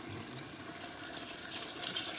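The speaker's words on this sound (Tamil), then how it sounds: "ஒன்றரை லிட்டர் தண்ணி ஊற்றிடுங்க வெந்நீர் ஊற்றுறோம் நாங்கள்" About one and a half litres of hot water pours steadily into a pot for beef biryani, a continuous soft splashing rush with no voices.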